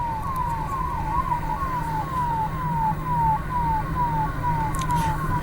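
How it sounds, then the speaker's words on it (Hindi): Ambulance sirens wail in a fast repeating up-and-down sweep, loud and near, over steady traffic rumble as a convoy of about 25 ambulances heads from Indore toward Harda after a factory blast. "इंदौर से लगभग 25 एम्बुलेंस जो है वो हरदा के लिए रवाना की गई हैं"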